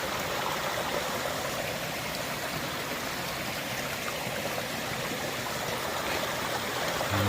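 A flowing mountain stream at a trail water source along a long-distance hike in Virginia, a steady close rushing and gurgling of water with no voices.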